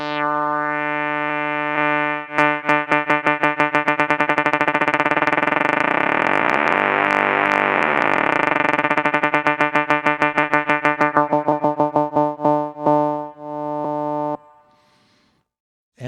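A bright metallic ring-modulated synth tone breaks into rapid repeating pulses that speed up like a bouncing ball settling, then ends in a sustained ringing note.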